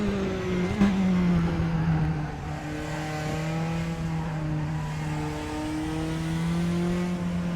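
A race car engine in the sim racing game Raceroom holds a strong, sustained whine, with pitch climbing and dipping through gear changes, loud and close with no voices over it.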